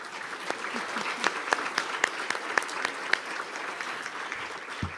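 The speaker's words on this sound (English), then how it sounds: "Please join me in giving all of these students and their schools and their families one final round of applause." Audience at a school board meeting applauding steadily for about five seconds, a dense patter of many hands clapping at moderate distance, with faint voices underneath.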